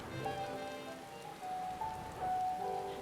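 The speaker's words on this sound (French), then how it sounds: "Et allez, il pleut encore." Rain falling in the video game Final Fantasy XIV, a soft, steady patter on surfaces, faint and continuous throughout under quiet game music.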